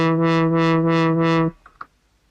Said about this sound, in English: It's just called filter modulation.